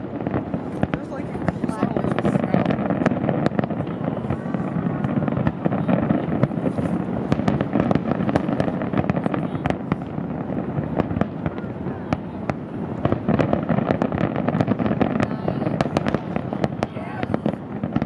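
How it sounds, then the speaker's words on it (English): Fourth of July fireworks finale in New York City, a dense, continuous barrage of sharp bangs and crackles with wind rumble and people talking throughout. "there's some fireworks going out right"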